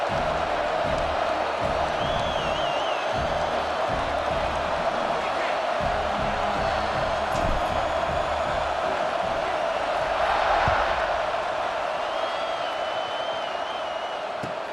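Stadium crowd in EA Sports College Football 26 during a kickoff, a steady loud roar of cheering and whoops that holds throughout, swelling slightly near the end, with faint announcer-style talk blended underneath.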